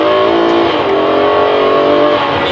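Ferrari 599 GTO V12 engine and exhaust heard from inside the cabin, a loud, steady, linear drone held for the full length with no talk over it.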